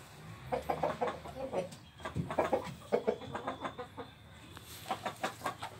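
Aseel hens on a farm cluck in short repeated bursts, moderately close and fairly soft, with brief quiet gaps between the runs of clucks.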